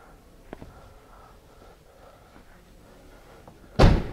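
Cabinet doors in a 2017 Tommy Bahama edition Airstream travel trailer swing shut with soft knocks, then one closes with a single loud slam near the end, against quiet room noise.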